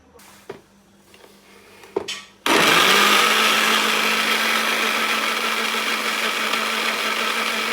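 An electric blender whirs steadily, blending a healthy juice. A few clicks and knocks come first, then the motor starts abruptly and runs loud and constant to the end.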